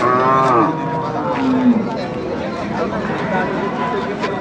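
A cow moos loudly up close, a long drawn-out low call, with a busy crowd of voices chattering throughout at the Chakan cattle market.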